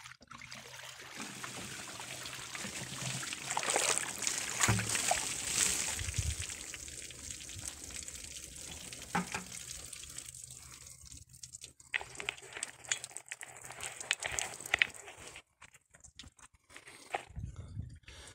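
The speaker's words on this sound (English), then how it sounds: "Get some water on here." Water poured and splashed onto freshly milled quarter-sawn oak lumber from a TimberKing 1220 sawmill, a close trickling and dribbling with scattered splashes and crackles, loudest near the middle and tapering off.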